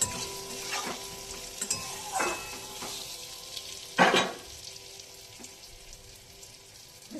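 Eggplant and hilsa with a little turmeric frying in a pan, with a quiet constant sizzle and a few stirring scrapes, the loudest one near the middle, close and soft, no speech.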